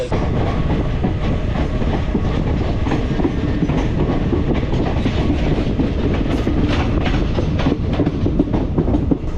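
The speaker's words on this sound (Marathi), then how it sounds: "चिपळूणवरून गाडी आता निघाली" A night express train leaving Chiplun rolls along loudly and continuously, wheels clattering over the rails in a rapid, steady rhythm with rumbling carriage noise throughout.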